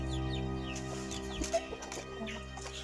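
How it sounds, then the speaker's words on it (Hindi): Chickens on a farm cluck and call in short bursts, with a rooster among them, over a steady low hum and some faint background sounds. "ये ताई मुर्गा है"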